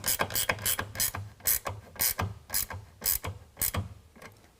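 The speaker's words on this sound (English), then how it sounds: "we're going to tighten that up with a 9/16" A 9/16 ratchet wrench tightens a bolt on a truck-bed tonneau cover rail, giving a series of about a dozen quick, close clicking ratchet strokes in an uneven rhythm with no talking.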